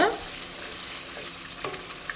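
Tomato pickle frying in oil is stirred in a pan, giving a steady bright sizzle with soft scraping stir strokes, close and alone, with no talk.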